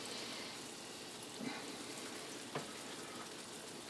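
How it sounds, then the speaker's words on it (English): Homemade golf-ball-sized meatballs fry in olive oil in a pan, giving a faint, steady sizzle with a couple of soft clinks from utensils. "got a sizzle in there"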